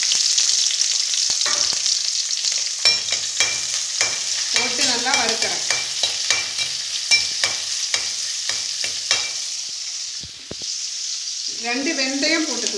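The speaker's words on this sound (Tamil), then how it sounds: "சின்ன வெங்காயம் போட போகிறேன். சின்ன வெங்காயம் கருவேப்பிலை வெள்ளைப்பூண்டு" Almonds, shallots, curry leaves and garlic frying in coconut oil, a steady close sizzle with repeated clinks and scrapes of a spoon stirring the pan, and a louder sputtering burst near the end.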